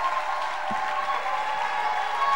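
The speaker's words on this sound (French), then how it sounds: "tu peux donner une bonne main d'acclamation" A church congregation applauds during a faith seminar, steady even clapping filling the room at moderate volume, without distinct voices.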